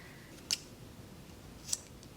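Two crisp scissor snips cut through yarn while crocheting a chevron mesh stitch, spaced about a second apart and quiet against a still room.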